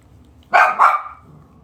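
Dogs bark indoors with two sharp, loud barks in quick succession, close to the listener, followed by quiet.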